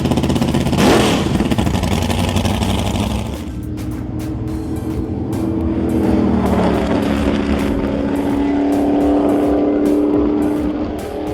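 McLaren Can-Am race car being offloaded at Canadian Tire Motorsport Park, its engine blipping with a sharp rev near the start, then settling into a loud, throaty idle with repeated short throttle pulses.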